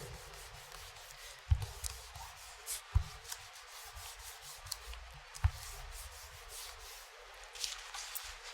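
Hands rubbing fabric pieces down onto a mat for a Scan 'n' Cut scan, a soft, continuous quiet rubbing and brushing with occasional light thumps, close and faint, with no talking.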